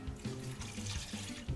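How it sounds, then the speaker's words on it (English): Chicken broth pours into a soup pan holding chicken, making a steady, close liquid rush and splash that continues for about a second and a half with slight surges. "Now I'm going to add the broth to it"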